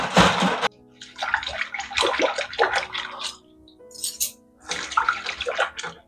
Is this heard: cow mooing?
no